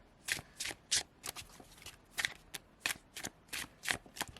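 Repeated quick riffles of tarot cards, a steady series of short crisp flutters close by, fairly quiet and without speech.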